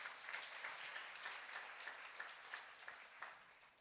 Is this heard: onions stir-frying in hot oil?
no